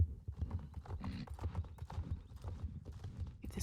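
Horse hooves in the video game Star Stable Online clip-clop in a steady, quick trotting rhythm, close and clear, with no other sounds.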